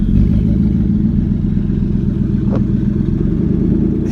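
A Porsche Panamera Turbo fitted with a side-exit exhaust and no crossover, driven with a manual clutch, gives a steady, loud low engine drone with pulsing throb throughout, a brief sharper rasp midway.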